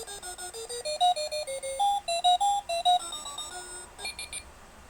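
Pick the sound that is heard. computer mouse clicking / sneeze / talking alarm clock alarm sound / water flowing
talking alarm clock alarm sound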